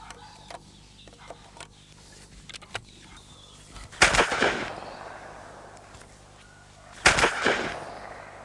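Two gunshots fired during a gun-shyness test for a hunting dachshund, sharp loud cracks about three seconds apart, each trailing off in an echo over quiet outdoor background with faint small knocks.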